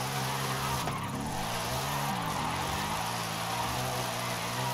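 A 2024 Ford Mustang with a body kit drives in Forza Horizon 5, its engine droning steadily with shifting pitch and brief tire-squealing slides, moderately loud and continuous.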